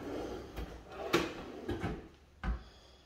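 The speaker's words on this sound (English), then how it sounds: "Slow close drawers." A soft-close kitchen drawer in a home with granite-like counters glides shut, giving a few muted, cushioned thumps spread over a few seconds in a quiet room.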